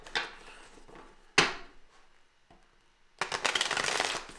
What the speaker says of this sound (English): I did a lot of shuffling before I came on, so just a couple more times here